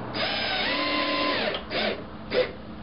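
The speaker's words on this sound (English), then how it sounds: "Just going to screw that into the timber." An electric screwdriver driving a screw into timber, one loud whirring run of about a second and a half close by, then two short bursts.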